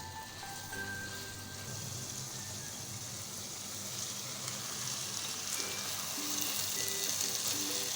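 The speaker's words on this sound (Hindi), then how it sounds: "अब हम मीडियम टू हाई फ्लेम पे ही इसको भूनेंगे अच्छे से" Yogurt and tomato fry in a pan over medium-high flame, sizzling and crackling steadily, a close, continuous hiss that grows a little louder toward the end.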